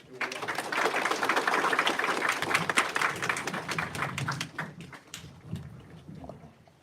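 Audience applause welcoming Pastor Kevin Waddle of Grace Lutheran at a Vietnamese language school opening ceremony, a steady crowd clapping that holds for several seconds, then thins out toward the end.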